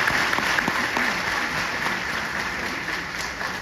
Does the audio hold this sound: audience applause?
yes